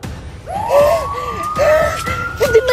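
A police car siren wails loud and close, its rising and falling tone sweeping up and down several times over a low rumble of traffic.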